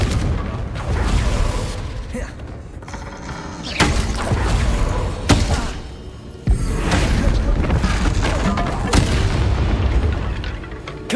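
Confringo fire-spell blasts in Hogwarts Legacy land as several loud, booming bursts, spaced a second or two apart, over a continuous rumbling backdrop of game effects.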